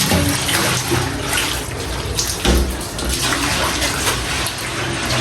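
Water gushes and splashes steadily while a kitchen window is being washed, loud and close, with small bursts and surges in the flow.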